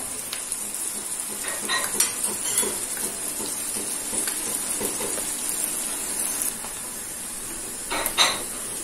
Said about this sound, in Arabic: بقلب البصلة